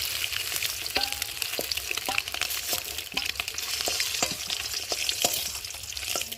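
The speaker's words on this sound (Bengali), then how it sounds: "খুব একটা ভাজবো না, হালকা করে ভাজবো" Eggs fry gently in oil in a kadai, giving a steady, close sizzle that holds throughout, broken by frequent sharp spatula clicks and scrapes. No one speaks.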